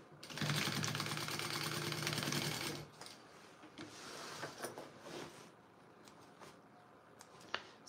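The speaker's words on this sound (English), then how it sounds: "I'm gonna go ahead and do a couple extra stitches out of the seam allowance right here over this connector." Sewing machine stitching extra reinforcing stitches over a connector in the seam allowance of an Oxbow Overnight Tote bag, a steady close mechanical whir and patter for about three seconds, then quiet handling and faint clicks.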